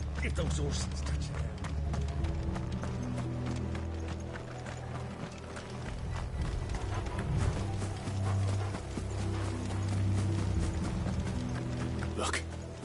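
Rapid, continuous hoofbeats of horses galloping in Final Fantasy XVI, loud and close, over a steady low rumble and busy background game sounds.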